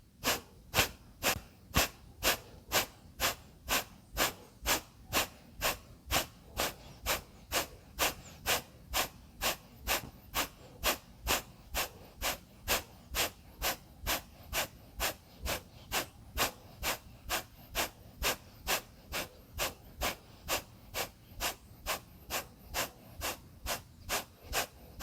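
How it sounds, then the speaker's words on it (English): Rapid, forceful Kapalabhati exhales through the nose during yoga practice, a long, even train of sharp breathy puffs at about two per second, close and fairly quiet. "Begin Kapalabhati"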